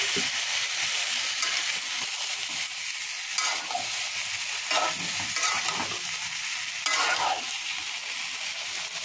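Boiled vegetables tossed into a pan with browned tempering spices, frying with a steady close sizzle and repeated scraping stirs of a spatula throughout, no voices.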